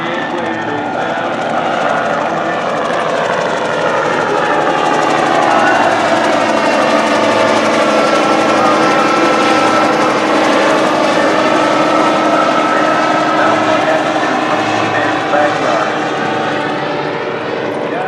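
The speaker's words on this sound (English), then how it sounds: "The propeller's actually turning" A propeller aircraft engine drones loudly and steadily at an airshow, a close, sustained rumbling hum with a slowly shifting pitch that fills the whole stretch without pause.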